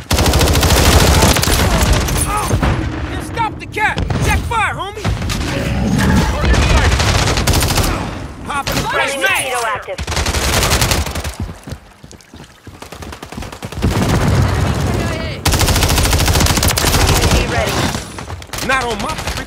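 Gunfire in Call of Duty Modern Warfare 3 during an online match: loud, rapid automatic bursts crackle almost nonstop, with brief lulls between volleys.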